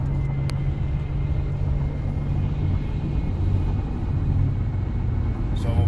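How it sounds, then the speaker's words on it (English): Low steady engine drone from a 2015 Dodge Caravan with a surging and stalling fault as it climbs a hill after a downshift, heard from inside the cabin as a continuous rumble with no talk. "I just downshifted there to get up this hill."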